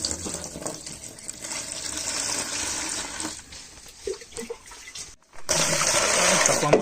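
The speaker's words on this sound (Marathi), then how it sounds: "टपामध्ये स्वच्छ पाणी काढून घेऊया आणि पुन्हा धुवून घेऊया." Tap water gushes steadily into a tub for washing freshly harvested organic leafy vegetables, a loud continuous hiss that briefly drops and breaks before resuming strongly.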